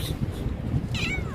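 A cat meows once, a short rising call at moderate distance over steady outdoor background noise by the seaside corniche.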